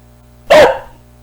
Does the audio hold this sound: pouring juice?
no